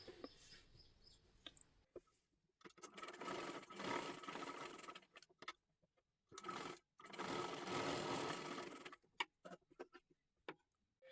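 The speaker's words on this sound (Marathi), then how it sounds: "गळ्याला आपण शिलाई मारून घेतली." A sewing machine stitches the neckline of a girl's one-piece dress in several bursts of fast, buzzing needle runs separated by quiet pauses and small clicks of fabric handling, close and clear with no one speaking.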